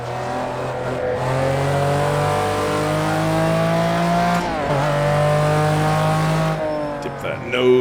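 A McLaren F1 race car's engine screams at high revs in a racing sim game, holding a loud sustained note with a brief dip at a gear shift midway before climbing again.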